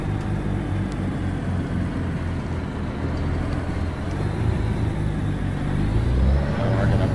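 Heavy truck engine idling and rumbling as it is maneuvered into a parking spot in American Truck Simulator, a steady low drone that swells slightly near the end, no voices.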